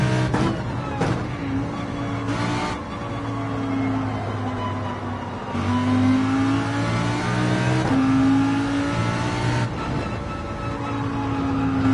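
A GT4 race car in Gran Turismo 7 held at full throttle, its engine droning loud and steady for the whole stretch, with the pitch climbing and dipping slightly through gear changes and no braking.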